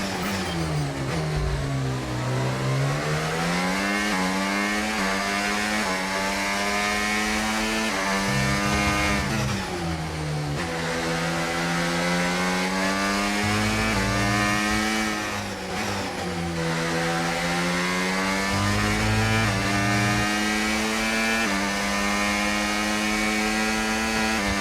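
A Formula 1 car engine on a lap of Austria in the F1 25 racing game, a loud high-revving whine climbing through the gears with repeated upshifts and dips for corner braking, continuous throughout.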